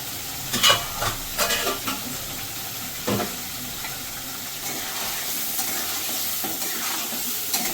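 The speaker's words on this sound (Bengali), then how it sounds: "5 মিনিট আমি মশলাটাকে একটু কষিয়ে নেব" Masala with salt and turmeric frying in a pan for egg curry, with a steady sizzle broken by a few louder bursts and stirring scrapes near the start, then settling into an even hiss.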